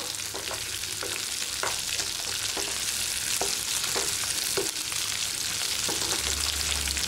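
Spices frying in a pan for an ivy gourd curry paste, a loud continuous sizzle with rhythmic spatula scrapes and taps against the pan, no talking.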